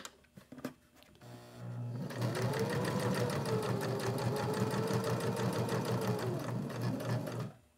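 A sewing machine runs steadily at speed for several seconds, chain piecing fabric for a beginner soap holder project, its rapid needle rhythm continuous after a few brief clicks and handling sounds at the start.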